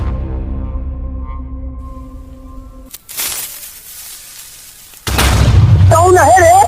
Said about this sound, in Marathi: हो हो, फटाके हे फोडतो.